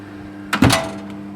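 A lamb roast going into a home oven, the oven door shutting with a single short, close thud and rattle over a quiet steady hum.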